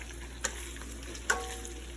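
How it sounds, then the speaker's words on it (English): Kielbasa frying in a pan gives a faint, steady sizzle, broken by two brief clinks of a utensil as it is stirred, close but quiet, with no talking. "Let me stir the kielbasa one more time."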